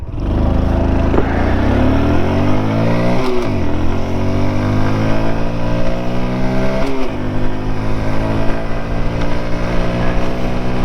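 A Honda scooter accelerates from 0 to 60 on a highway. Its engine drones loudly and rises steadily in pitch, with two brief dips before it climbs again, under constant wind noise.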